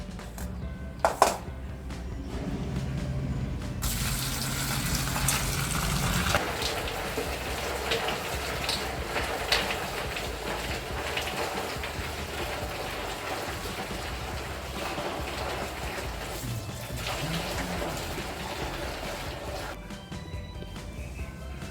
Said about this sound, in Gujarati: સારા પાણીથી પહેલાં 2-3 વખત ધોઈ એટલે હું ધૂળ હોય તો બધી નીકળી જાય